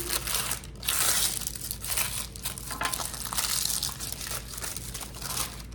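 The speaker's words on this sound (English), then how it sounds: "I usually kind of wad mine up in a ball" A sheet of parchment paper is crumpled into a ball by hand, a close, continuous crinkling and crunching for several seconds.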